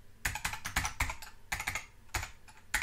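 Keys on a computer keyboard tapped in short irregular bursts, crisp and close, with brief pauses between clusters of strokes and no voices.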